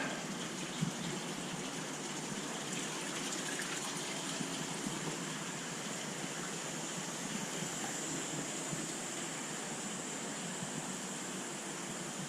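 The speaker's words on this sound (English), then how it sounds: "At least all the pumps are pumping and stirring and aerating the water." Several pumps run steadily in a 1000-gallon sump filter serving six 240-gallon tanks, a constant broadband gush and churn of circulating, aerating water that holds even and unbroken throughout.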